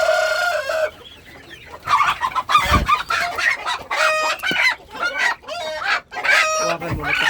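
Native chickens clucking loudly up close, with a rooster crowing in repeated drawn-out calls among the flock and a voice briefly audible underneath.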